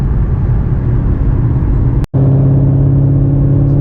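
Ford Mustang GT500 V8 roaring loudly under hard acceleration as the tires struggle for grip, a steady close drone broken by one brief cutout midway before resuming.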